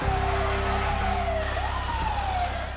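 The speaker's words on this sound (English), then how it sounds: "hear this just deafening roar of fire engines and police cars" Fire engine and police car sirens on a city street during the September 11 attacks, overlapping wailing tones over a deep engine rumble, loud and continuous.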